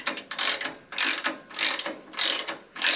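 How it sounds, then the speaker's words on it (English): A ratchet wrench clicks in quick bursts while tightening a bumper bolt snug against the frame of a Lexus GX470, each burst a rapid metallic ratcheting run separated by brief pauses, close and clear with no speech. "Now I'm going to tighten up this bottom one to get this thing snugged right up against the frame."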